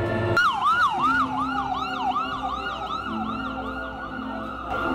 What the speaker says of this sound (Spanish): Una ambulancia que pasa